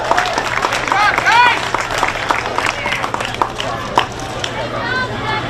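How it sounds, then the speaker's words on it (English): Applause for the young showmen at a junior livestock show. Scattered clapping comes from a crowd in an arena, with voices talking over it and a low steady hum underneath. "Let's give them another nice round of applause."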